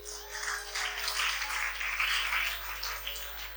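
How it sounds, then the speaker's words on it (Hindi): Faint, steady applause from a youth audience at a practical training session, a dense patter of many hands clapping at a distance for a few seconds. "तो जोरदार तालियां आपके लिए।"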